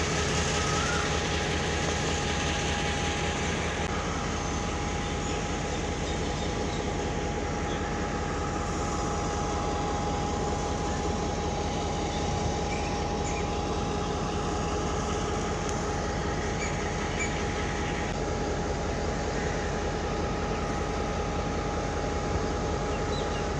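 A heavy goods train loaded with large stones rolls past at Kotri railway station in Pakistan, a loud, continuous rumble and steady wagon clatter that holds unbroken from start to finish.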